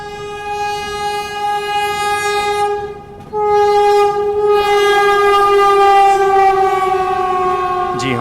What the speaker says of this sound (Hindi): जी हाँ, बिल्कुल वाराणसी वंदे भारती है ये।